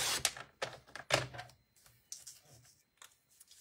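A paper trimmer blade cutting card stock for a box lid: a series of sharp, dry slicing clicks and scrapes, loud and close in quick bursts, then softer taps as the paper is shifted.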